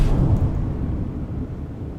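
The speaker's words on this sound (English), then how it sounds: "Man, it is raining and pouring. Listen to that. That is some lightning going down." A thunderstorm with heavy pouring rain, a low rumbling roar of thunder and rain sustained throughout, loud and close with no voices.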